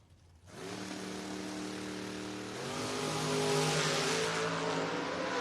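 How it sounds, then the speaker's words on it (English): Drag race cars, including a 1995 Oldsmobile chop-top roadster, launching side by side, a sudden loud engine roar that rises in pitch and swells further as they accelerate away, steady and sustained. "Great side-by-side drag race there."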